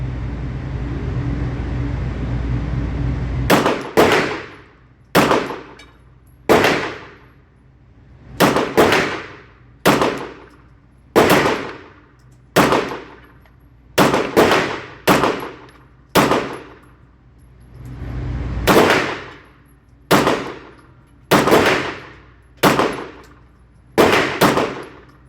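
Sharp, loud pistol shots from a Bul Armory SAS2 Tac Govt 9mm fired at 7 yards during break-in, in irregular bursts of single and double shots with short pauses, each crack ringing out briefly.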